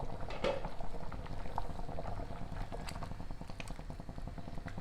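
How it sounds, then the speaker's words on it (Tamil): Continuous thick bubbling and gurgling of chicken curry at a rolling boil in a covered pot, close up and steady throughout, with no talking. "எப்படி கொதிச்சிட்ருக்கு பாருங்கள்"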